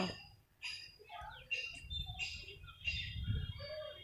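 Scattered chirping bird calls from a flock of pigeons kept for flying, some aloft and some resting on a rooftop, rising and falling over a low rumble of background noise.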